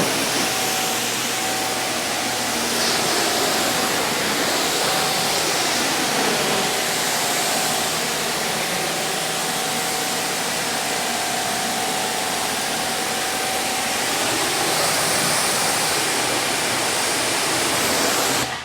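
A hose sprays rinse water over a Rivian R1T electric pickup during a wash, a loud continuous rushing hiss that holds steady from start to finish without speech.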